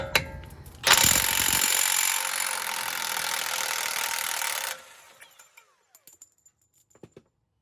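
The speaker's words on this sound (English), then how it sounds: "Next, we need to take this nut off. It's a 36 millimeter." A loud, continuous power-tool rattle works a 36 mm nut off the steering knuckle of a 2015 Ram 1500 for about four seconds, then stops, leaving a few faint metallic clicks and taps nearby.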